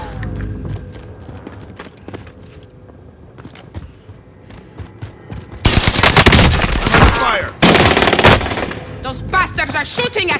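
Rapid automatic gunfire in a Call of Duty Warzone match: a quieter stretch of scattered shots and movement, then two long, loud, dense bursts of close-range firing through the second half.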